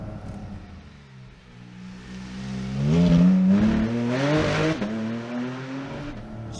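A Porsche GT4RS engine climbs through its revs, a rising, snarling tone that swells loud in the middle, drops back briefly, then pulls again, heard close with no talking.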